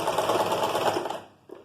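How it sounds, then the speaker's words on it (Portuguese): A sewing machine stitches a zipper into a pleated skirt in a steady, close, loud whirring run that stops abruptly, followed by a faint click. "Costuramos aqui o zíper"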